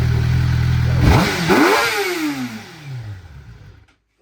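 A Nissan Z sports car's engine revs sharply, rising and falling in loud, close bursts before settling back and cutting off.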